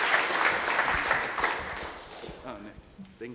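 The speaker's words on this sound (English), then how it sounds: "Let's give Cole another round of applause." Audience clapping after a talk on World War II watch history, a dense round of applause that is loud at first, then thins and fades while voices start speaking over the tail.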